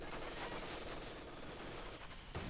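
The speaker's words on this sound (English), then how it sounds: "Mortar fire joining in against the Captain." Mortar fire in Company of Heroes 2, a World War II strategy battle: a faint, continuous wash of distant explosions and gunfire with no distinct single impacts.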